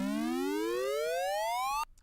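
A synthesized riser effect in Cubase sweeps steadily upward in pitch for nearly two seconds, rich and buzzy, then cuts off abruptly into near silence.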